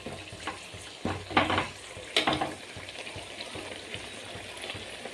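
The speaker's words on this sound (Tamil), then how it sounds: "நல்லா பச்சை வாசனை போகிற வரைக்கும் வணக்கி விடணும்." Ginger garlic paste and tomato sauté in a hot pan for a chicken gravy, giving a steady close sizzle with a few louder bursts as the spoon stirs through the mixture.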